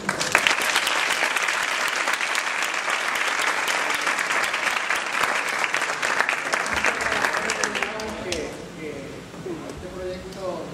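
A large audience bursts into loud, sustained applause that fills most of the stretch before thinning out, with a voice speaking Spanish over the tail end.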